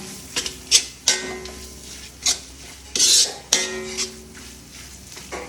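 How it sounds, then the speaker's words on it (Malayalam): A utensil scrapes and clinks against a pan while ingredients are mixed with crumbled chicken Maggi cubes, several sharp scrapes and knocks at irregular intervals over a quiet kitchen background with no voices. "അത് ചേർത്ത് നന്നായിട്ട് മിക്സ് ചെയ്യുക"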